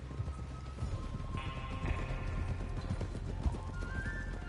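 Steady clip-clop of horse hooves at a trot in Red Dead Redemption 2, close and continuous, with a faint ambient hum and a brief tonal whine underneath.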